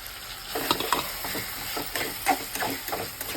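Chopped tomato fried with ginger and shallot paste in a pan for an egg curry, a close crackling sizzle with quick scraping stirs and clatters over a few seconds.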